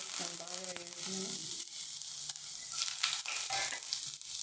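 Ginger drops into a little hot oil and sizzles close by, a crackling, hissing fry that swells after a brief tonal hum at the start and carries on with light pops and stirring.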